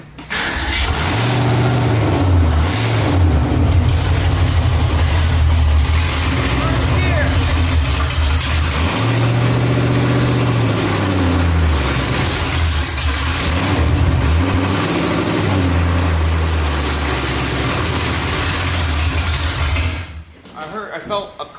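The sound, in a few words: 1965 Ford Mustang engine started and running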